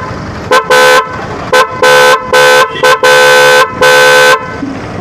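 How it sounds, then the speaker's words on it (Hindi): An aftermarket horn fitted to a Hero Honda motorcycle such as a Splendor, CD Deluxe or Passion Pro blares loudly and close up in a pattern of short and long tonal honks, about seven bursts separated by brief gaps. "इस तरह के हिक्सन हॉर्न देख सकते हो"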